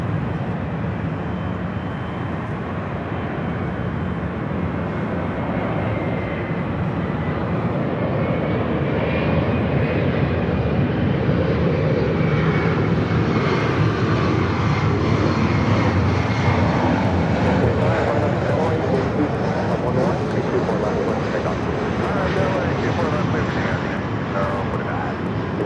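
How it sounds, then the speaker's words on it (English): A Boeing 737 MAX 9 in Alaska Airlines Orca livery lands at LAX, a steady loud jet engine roar that swells and holds across the clip, with voices talking over the background noise. "That's the Orca livery coming in from Portland, a 737 at MAX 9."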